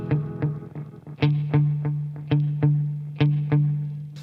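Guitar through a vintage Maxon AD-80 analog delay, a sustained note struck in repeated plucks with echoing repeats that shift as the knobs are turned, clear and close with no talk.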